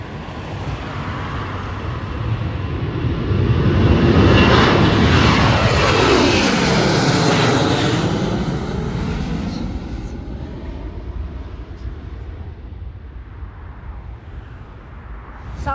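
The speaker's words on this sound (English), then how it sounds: "This is American Airlines departing to Dallas, Fort Worth on a 737-800." An American Airlines Boeing 737-800 jet departs Hollywood Burbank Airport, its loud engine roar swelling to a peak and then slowly fading as it climbs away, with no talking.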